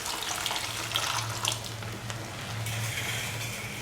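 Warm water pours steadily into a pot of green gram and coconut stew, a continuous splashing gush with a low hum underneath, close and moderately loud.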